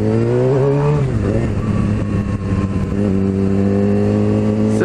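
Heavy city traffic in Natal, Brazil, heard from a moving motorcycle: a steady, loud engine drone with shifting revs and passing cars and motorbikes close by.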